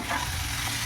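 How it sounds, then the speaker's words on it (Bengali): Chicken in a frying pan sizzles loudly and evenly, with a dense, close hiss that continues without any break through the short moment. "এবারে এটাকে একটু 2-3 মিনিট নাড়াবো।"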